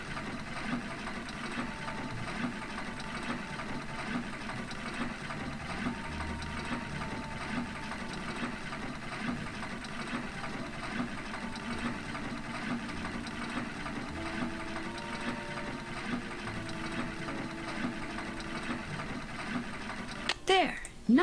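Sewing in the Nancy Drew: Secret of the Old Clock video game, a steady mechanical whirring with ratchety, gear-like clatter running continuously under game music, ending in a brief sharp burst.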